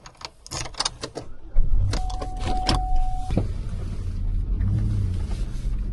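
Inside a Buick, a few door and key clatters come first, followed by the smooth whir of a power window motor running for over a second, then a low steady car hum.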